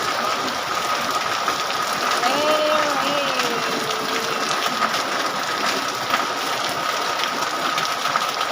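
Heavy rain from a typhoon pours down steadily and densely, a loud continuous hiss with a faint voice rising briefly through it.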